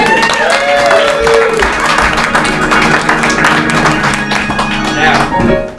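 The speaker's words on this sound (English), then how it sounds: "Can we get a round of applause for these young ladies?" An audience at an improv theatre applauding, a steady wash of clapping from a small crowd lasting several seconds with a voice speaking over it, then fading out.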